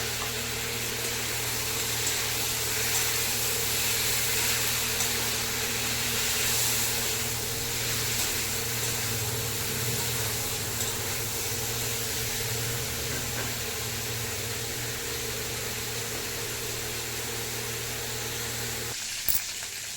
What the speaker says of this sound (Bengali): একটু ভালো করে ফ্রাই করে দেবো